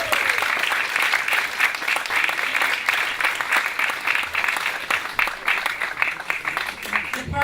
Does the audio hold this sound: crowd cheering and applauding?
yes